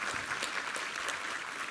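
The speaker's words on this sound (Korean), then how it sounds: "우리 하나님께 감사와 영광의 박수 올려드리겠습니다" Steady applause from a church congregation during a Sunday worship service, a dense wash of many hands clapping continuously at an even level, with no voices over it.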